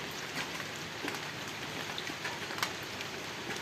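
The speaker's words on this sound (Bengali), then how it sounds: "সারাদিন বৃষ্টি পড়ছে" Steady rain falls during a day-long downpour that has flooded the roads, a soft, even hiss with scattered drop patter heard faintly at a distance, with no voices.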